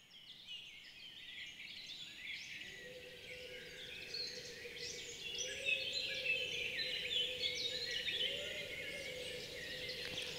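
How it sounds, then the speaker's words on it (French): Forest dawn chorus around six in the morning in July, many birds singing together in overlapping chirps and trills, with a sustained lower tonal call joining partway through, all heard from a distance. "tous les oiseaux chantent en même temps le matin"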